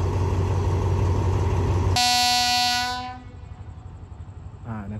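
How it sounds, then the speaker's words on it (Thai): A train horn blasts loud and steady for about a second as a train pulls into Surat Thani railway station, then cuts off, leaving the low rumble of the arriving train. "ขบวน43ก็เข้าสู่สถานีรถไฟสุราษฎร์ธานีนะครับ"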